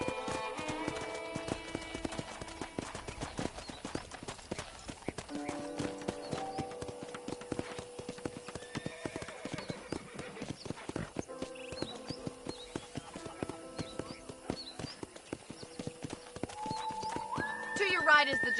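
Horse hooves clip-clop steadily in the Western video game Red Dead Redemption as a ranch horse walks along, a regular rhythm of close hoof beats, with occasional whinnies and game dialogue spoken over it.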